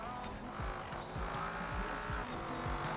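A race car in Forza Horizon 4 drives hard, its engine a steady close roar with repeated rapid downshift blips and thumps at a regular rhythm, over faint tire hiss.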